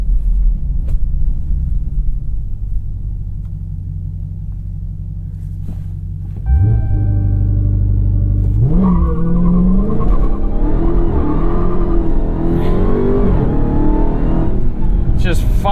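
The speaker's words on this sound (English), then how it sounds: "Try a little launch control start." A 2021 Dodge Charger SRT Hellcat Redeye performs a launch control start on a track, a steady loud idle rumble surging into a hard rev and a roaring acceleration with rising engine pitch and fighting for grip.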